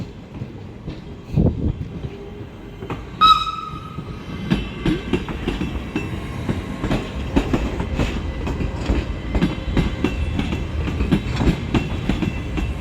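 A train rumbles past at Starý Smokovec, Slovakia, with steady clickety-clack of wheels on rails, a brief high squeal near the start, loud and continuous throughout.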